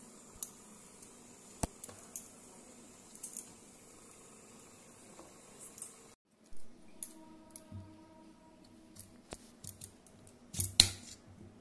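Vegetables are sliced for a Bengali fish curry, drumstick (sajna) pods and potatoes cut by hand with sharp, scattered snips and clicks, fairly faint and close, with a brief pause midway and no talking.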